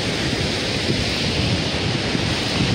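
Rushing water roars steadily and close beside a mountain trekking trail on the way to North Annapurna Base Camp in Nepal, a dense continuous wash with no pauses.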